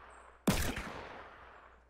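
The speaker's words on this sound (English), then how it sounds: "Is that you shooting?" A single sharp gunshot in Fortnite Battle Royale, cracking out suddenly after a quiet moment and ringing off in a fading tail; fairly distant and soft overall.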